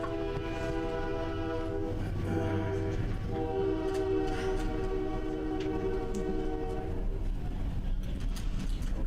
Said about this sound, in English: Mr. Bethea, we're going to pause the timer and let the train pass so we can hear you